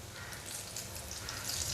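Fasting-style kachori deep-frying in hot oil, close up: a steady bright sizzle with fine crackling that swells slightly toward the end, with no talking.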